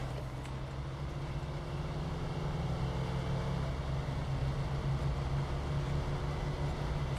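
A V8 truck engine in the snowy off-road driving game SnowRunner drones steadily at a low, constant pitch, running alone without talk.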